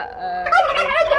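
Chickens on a small home poultry farm with hens and a rooster let out a brief, loud, close fowl call that rises into a quick warbling burst.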